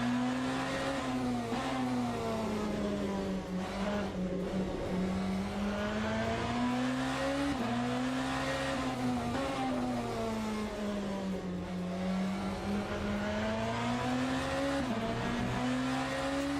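A BMW hypercar laps Fuji Speedway in the racing game Le Mans Ultimate, its engine droning continuously and rising and falling in pitch through acceleration, braking and downshifts, loud and close with no other sound.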